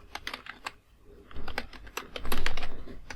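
Typing on a computer keyboard to enter a university name into an online resume form, a quick run of close, crisp key clicks that grows denser and louder toward the end, with no talking.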